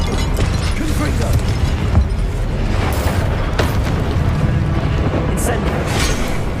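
A Confringo explosive spell blast in the Hogwarts Legacy game, a loud fiery burst set in a dense, continuous din of combat rumble and clatter, with voices under the mix.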